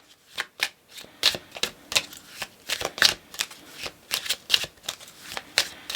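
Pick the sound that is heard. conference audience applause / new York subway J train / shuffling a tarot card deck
shuffling a tarot card deck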